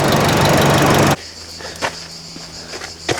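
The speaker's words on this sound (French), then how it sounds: "Le moteur est démarré, ça fait du bruit." A van engine with a failing turbo roars loudly and steadily for about a second, then cuts off abruptly, leaving a quiet hum with a few faint knocks and clicks.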